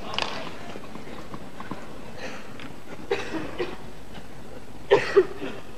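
A couple of short, sharp coughs from a player near the end of the 1996 Wimbledon final, rising briefly above a steady murmuring background of the tennis crowd.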